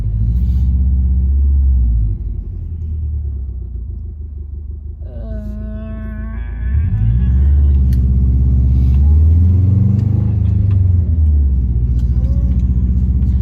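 A car drives through traffic circles, its low engine rumble and road noise steady and close throughout, rising in loudness partway through as it accelerates, with a faint tonal sound briefly above it.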